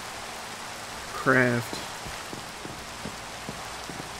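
Rain falls steadily in the video game Minecraft, a soft continuous patter with scattered light drops while someone speaks briefly over it.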